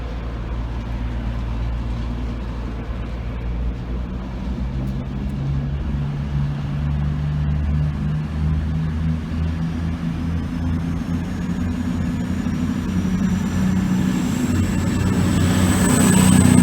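Two trains pulling out of Doncaster station together give a deep, continuous engine rumble that slowly swells louder, with a faint rising whine toward the end.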